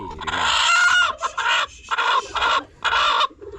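Brooding hens clucking and crowing close by in repeated loud bursts with short pauses, a barnyard chorus with no speech over it.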